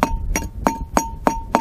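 A tool taps a glass wine bottle to chip a hole round for a homemade minnow trap, six evenly spaced, ringing clinks sounding close and fairly loud with no one talking.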